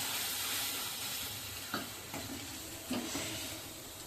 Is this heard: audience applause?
no